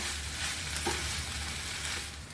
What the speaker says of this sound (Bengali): এবার ভেজে রাখা আলুগুলো এর মধ্যে মিক্স করে দেবো। তারপর আবার একটু কষিয়ে নেব।